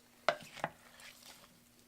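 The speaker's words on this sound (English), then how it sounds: "Turn it up to high and give it a quick stir." A spoon knocks twice against a pot while homemade dog food ingredients are stirred, two quiet clicks followed by a faint scrape, soft and close.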